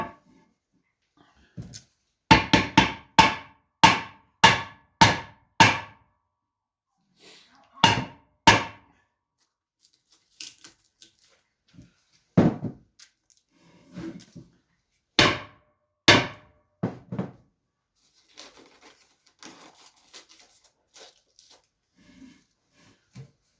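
Wooden pegs hammered into holes in a wooden barrel: a rapid run of sharp, evenly spaced knocks, then scattered pairs and single blows with pauses between, close and fairly loud.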